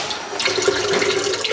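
Water poured into a bowl of egg roll dough made from whole wheat, a steady close splashing trickle lasting the whole brief moment.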